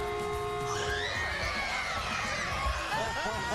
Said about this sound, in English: You can hear that scream when the waves go on from out in the parking lot